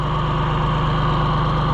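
A small John Deere 1020 tractor with a loader idles nearby, a steady low chugging engine drone with even, unbroken rhythm throughout.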